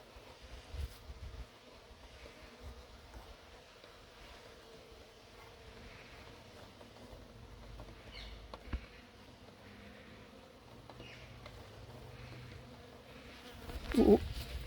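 Honeybees and a trapped hornet drone and buzz inside the sleeve of an anti-hornet trap tent at an apiary, a steady low hum of wings running throughout with a louder flurry near the end.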